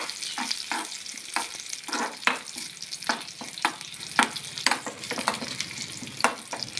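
Mustard seeds and special round chillies frying in hot oil for a changalam paranda theeyal tempering: continuous sizzle punctuated by many sharp popping crackles in an irregular rhythm, close and fairly loud, with no talking.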